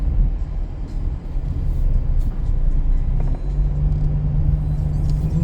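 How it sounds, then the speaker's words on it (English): A Ford Mustang convertible with a heavy American V8 rumbles loudly and steadily while driving, a deep continuous engine drone with slight swells in load. No one speaks over it. "Pretty heavy American V8 horsepower car."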